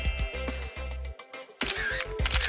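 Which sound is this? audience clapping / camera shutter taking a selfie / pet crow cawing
camera shutter taking a selfie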